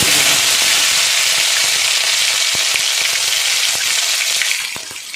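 Ginger and green chili paste sizzling and spitting in hot oil, a loud continuous fry with occasional sharp crackles and stirring scrapes, no talking.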